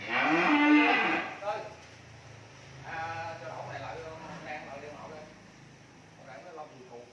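Cattle low on a farm in An Giang, with a long loud moo at the start and then quieter lowing and bleat-like calls. People talk in the background throughout.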